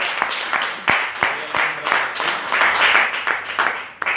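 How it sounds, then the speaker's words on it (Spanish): Applause at a church service, a congregation clapping together in a dense, uneven burst with a few sharp individual claps standing out, steady for several seconds before tapering off. "Le damos otro aplauso al Rey."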